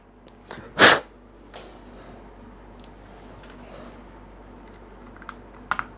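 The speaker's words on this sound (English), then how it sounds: "That's a nice tight click." A plastic part snapping into a Boeing 737 autopilot control panel built for flight simulation, one sharp close click followed by quiet handling and a few faint taps.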